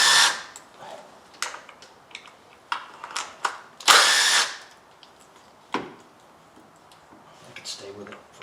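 Power tool loosening 10mm bolts on the ignition coils of a 2015 Town and Country minivan, heard as short, close whirring bursts separated by pauses, with one longer run in the middle and a few faint clicks.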